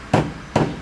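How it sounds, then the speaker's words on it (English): Two sharp metallic hammer strikes on an aluminum car body panel, about half a second apart, each ringing briefly before fading; loud and close. "Let's hit it with a hammer."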